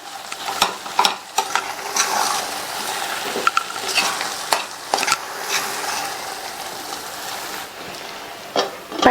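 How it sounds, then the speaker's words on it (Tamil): Mushrooms fry in a spicy masala in a pan, a spoon stirring and scraping through them in quick, uneven strokes over a bright, steady sizzle, up close with no talking. "அடுத்து காளானை சேர்த்துக்கலாம். இந்த மசாலாலையே நல்லா பிரட்டி விட்டுருங்க."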